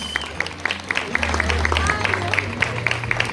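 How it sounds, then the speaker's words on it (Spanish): An audience at a school graduation ceremony gives sustained applause, many hands clapping together with crisp individual claps on top, while a low musical tone and some voices carry underneath. "Fuerte el aplauso una vez más."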